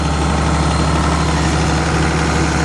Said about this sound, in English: There's the auto idle kicking in.